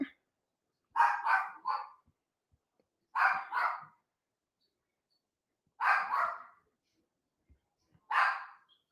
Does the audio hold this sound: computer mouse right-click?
no